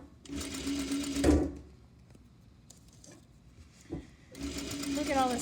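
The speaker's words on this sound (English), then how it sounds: "I'm still sewing only 1 bag" A sewing machine stitching the lining of a messenger bag, with two close bursts of rapid mechanical whirring at the start and end separated by a quiet gap and a few soft clicks.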